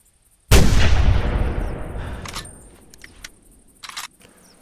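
A single loud hunting-rifle shot in The Hunter video game, a sharp crack followed by a long rolling echo that fades over several seconds, with a couple of faint clicks near the end.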